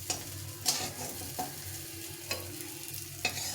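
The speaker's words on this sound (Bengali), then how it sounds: "তো আমি করলাগুলো দিয়ে দিলাম" Fried bitter gourd slices tossed into a pan for shukto dal, sizzling steadily up close while a spatula scrapes and stirs in several sharp, evenly spaced strokes.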